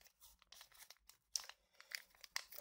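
Paper torn by hand while decorating a Filofax planner: quiet, close crackling rips and crinkles in short uneven bursts, with a few sharper tears near the end.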